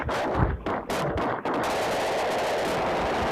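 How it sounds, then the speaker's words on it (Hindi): Parafal rifle fire in the Free Fire mobile game, several quick sharp shots followed by a sustained burst of rapid automatic fire, loud and close with no talking. "उसको अभी पैराफल गन से उड़ा डालता हूँ"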